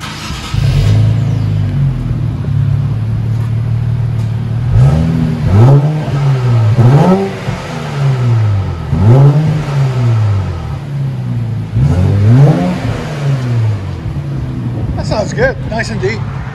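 Infiniti Q60 3.0L V6 with a straight-pipe exhaust, a steady deep idle broken by a series of sharp revs rising and falling, loud and close, with people talking quietly beneath.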